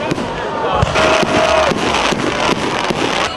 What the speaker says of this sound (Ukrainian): Надвечір організатори влаштували святковий феєрверк.